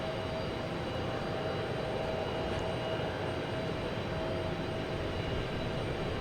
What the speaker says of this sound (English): next takeoff, we have JetBlue heading to the land of family vacation